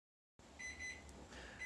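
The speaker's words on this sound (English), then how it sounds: "Well, that's my 20-minute timer." A kitchen timer goes off after twenty minutes of baking sourdough bread, sounding a faint repeated high electronic beep in a quiet room.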